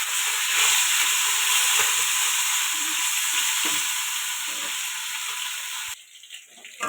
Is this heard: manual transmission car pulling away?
no